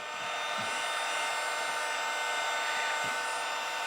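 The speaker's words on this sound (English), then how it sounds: "You can hear the fan pick up." Fan of a DeWalt-lookalike heat gun blowing a steady, even whoosh close to the mic, holding constant throughout with a couple of faint low bumps.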